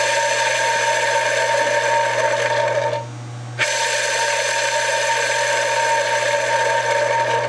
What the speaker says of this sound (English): Okay, Tim, go ahead and spin that bearing.